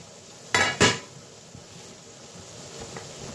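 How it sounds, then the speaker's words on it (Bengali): A lid is lifted off a cooking pot of taro greens with bean seeds, giving two short, close metallic clanks about a quarter second apart, followed by quiet kitchen background. "ঢাকনাটা উঠিয়ে দিই"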